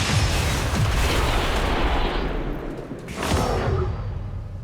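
Explosion in the video game XCOM 2 War of the Chosen: a heavy, sustained rumbling blast that fills the scene, dips briefly, then swells again with a second burst before trailing off.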